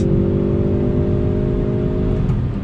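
A 2020 Hyundai Veloster Turbo hot hatch accelerates on a track, its engine droning loud and close with a steady rising tone and road and wind noise underneath, no voices.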